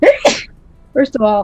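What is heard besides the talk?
sneeze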